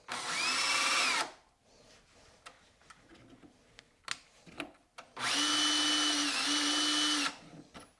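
A power trimmer cutting brass ammunition cases for reloading whirs loudly in two sustained bursts, separated by light clicks and handling taps of brass in a quiet room.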